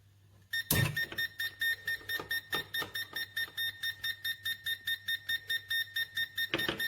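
A natural gas leak detector with a 12-inch gooseneck sounds its alarm, a sharp electronic beep repeating in a fast, even pulse, loud and close with no voices.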